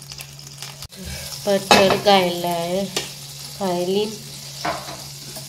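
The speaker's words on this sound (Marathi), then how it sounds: "बटरान पयलीं भाजून घेवपाचें" Butter frying in a pan, with a steady, soft sizzle and the occasional stir running underneath someone speaking.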